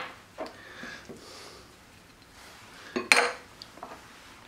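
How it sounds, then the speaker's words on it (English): A utensil clinks and scrapes in a bowl as garlic and mint are swirled into Greek yogurt dip, with soft scattered taps followed by a sharper, brief clatter near the end, close and moderately quiet. "going to go ahead and throw our garlic and mint in next. Give that a little swirl in there."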